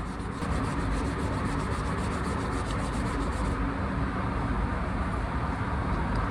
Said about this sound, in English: 400 grit first, and I'm just going to sand down the damage area to open this up and smooth out the transition from the plastic to the paint